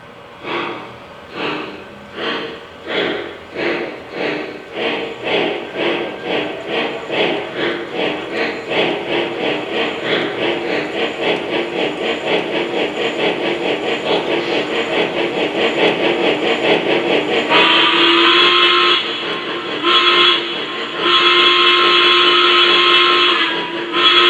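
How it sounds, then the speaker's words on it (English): Lionel Legacy 2-6-6-2 Mallet model steam locomotive chuffing in rapid rhythmic puffs that quicken until they blur into a continuous hiss, then a steady whistle-like tone cuts in and out near the end. "the primary stack puffs in sync with the chuffing sound of the locomotive"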